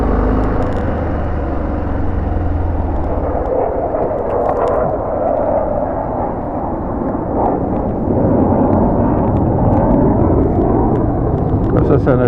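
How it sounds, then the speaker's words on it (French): A jet aircraft roars in the distance as it climbs, a broad rumbling wash that holds steady while someone speaks over it. "Ça, c'est un avion qui décolle de l'Équin et qui a déjà disparu dans la nébulosité."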